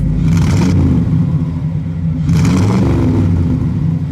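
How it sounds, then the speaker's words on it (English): A 1957 Studebaker Golden Hawk restomod engine revved twice, each burst a loud, rough rumble climbing and falling over a steady idle, close by. "Peter, give it a rev."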